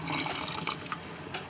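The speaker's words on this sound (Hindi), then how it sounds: "इसमें अभी ऐड कर लेंगे थोड़ा सा पानी।" Water is poured into a pot of Kashmiri Wazwan meat yakhni while it cooks, a close, continuous splashing pour with small fluctuations over a second and a half.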